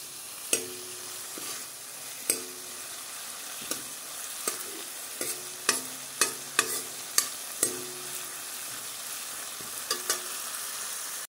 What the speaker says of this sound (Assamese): এতিয়া মই ধুনীয়াকৈ এইখিনি ভাজি ল'লোঁ ভাজি হৈ গ'ল